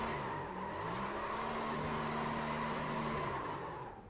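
A stock car in the iRacing NASCAR sim does burnouts at the LA Coliseum, making a loud, steady engine drone mixed with tire squeal that holds for a few seconds and then fades slightly.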